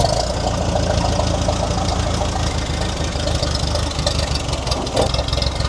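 An old, long-abandoned V4 diesel engine runs with a loud, rough, knocking clatter, heard up close. It holds steady and continuous throughout, with no talk over it.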